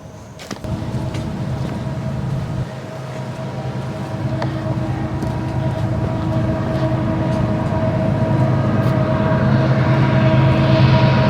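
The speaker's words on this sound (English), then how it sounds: "Here's a train down there." A train rumbles along tracks below the Long Point Trail in West Virginia, a steady low roar that grows slightly louder over time, heard from a distance across open terrain.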